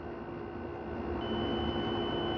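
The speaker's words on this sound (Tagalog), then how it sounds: "Nag-beep yung kaliwa niya, tapos kanan." A multimeter in continuity mode gives a steady, unbroken electronic beep while its probes test a shorted ASRock B75M motherboard, heard close and alone at an even level.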